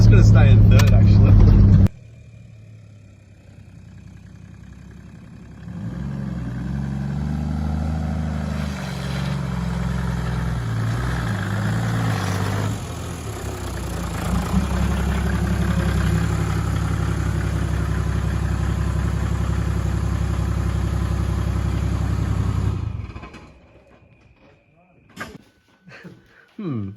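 A car fitted with a reconditioned gearbox, newly installed alongside a PDI intercooler, drives along held in third gear, its steady mid-to-low engine drone running loud for most of the clip before dropping away near the end, with voices talking over it.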